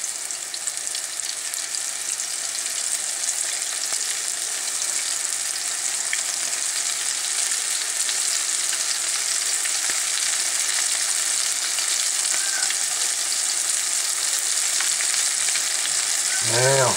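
Battered onion rings frying in hot oil in a home kitchen, a dense continuous sizzle and crackle heard up close and steady throughout, with no talking.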